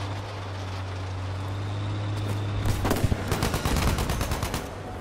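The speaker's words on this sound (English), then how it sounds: "He's shooting." Rapid bursts of gunfire in the video game Battlefield V multiplayer break out midway, sharp repeated cracks at moderate distance over a steady low background hum.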